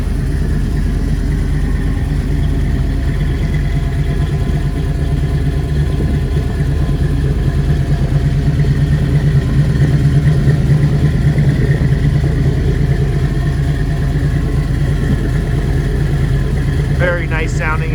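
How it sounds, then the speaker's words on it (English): A 1975 Pontiac Trans Am with a 455 V8 and dual exhaust rumbles at a steady, deep idle for the whole stretch, loud and close, with a few faint clicks near the end. "Very nice sounding exhaust,"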